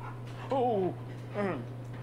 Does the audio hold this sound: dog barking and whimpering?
yes